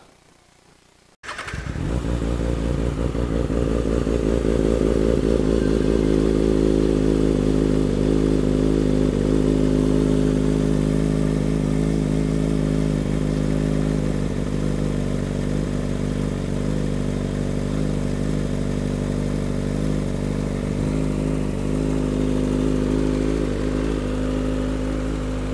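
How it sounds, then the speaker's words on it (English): A motorcycle fitted with a new slip-on exhaust and a gutted catalytic converter fires up outdoors and settles into a loud, steady, throaty idle close by, running alone for about twenty-five seconds. "So let's roll the bike outside and see how she sounds."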